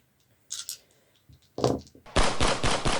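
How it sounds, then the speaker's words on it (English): A volley of four rifles fired in a Great War trench-assault setting, with sharp reports standing out against near quiet and then running into a louder, denser burst of cracks at the end. "this group will fire 4 rifles"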